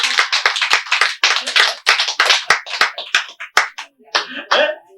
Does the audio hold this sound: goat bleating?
no